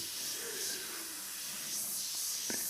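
An airbrush sprays paint in short dagger strokes on a monochrome portrait, a soft continuous airy hiss that swells and fades with each pass, close, with a small tap near the end.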